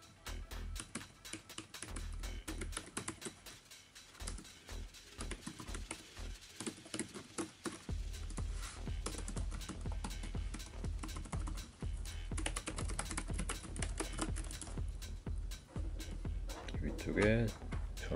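Rapid clicking of keys on a full-size HP 250 G7 laptop keyboard, bursts of typing with brief pauses, close and fairly quiet.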